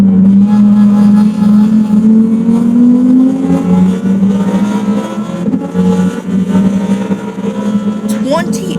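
Lamborghini Huracan race car in a racing video game at Daytona, a loud sustained engine drone rising in pitch as it accelerates, with a brief shift near the end.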